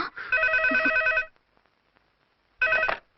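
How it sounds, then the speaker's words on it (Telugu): An old-style telephone bell rings in a household comedy film scene: one long trilling burst, a second of silence, then a second ring starts, loud and close. "అదిగో ఆయన ఫోన్."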